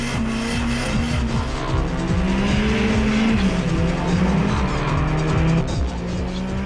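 RAPiD RS13 rally car with locked diff and no traction control spinning its wheels on a wet surface, a loud, close, steady engine roar with rising and falling revs and tire noise throughout.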